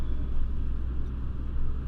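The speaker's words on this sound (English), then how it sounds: "Did you guys hear that guy's transmission?" A Ford car with a struggling transmission passes on a road, giving a steady low rumble of engine and road noise at moderate distance, with no talk over it.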